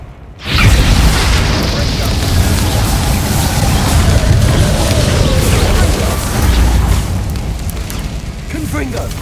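Repulsor spell cast in a video game, a deep sustained boom with a rumbling wash that stays loud for several seconds and slowly fades, with a voice present.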